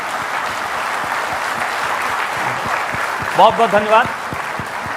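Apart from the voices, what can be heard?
studio audience applause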